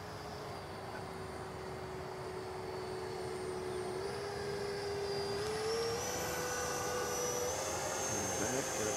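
An FMS Futura V2 radio-controlled jet with gear and flaps down makes a low pass, its electric ducted-fan whine rising steadily in pitch and loudness as it approaches, heard from a moderate distance with outdoor background noise.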